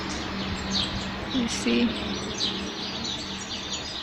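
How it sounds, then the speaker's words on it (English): Birds chirp and sing in the open air outside St. Pascal's Church, scattered bright calls over steady outdoor background noise, with a person speaking briefly partway through. "The birds are so happy today."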